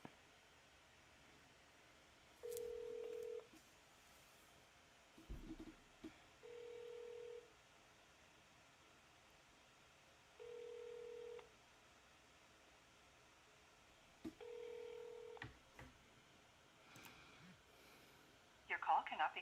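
A telephone call being placed, with faint ringback tones pulsing at regular intervals, broken by soft handling noise and a brief rustle near the end.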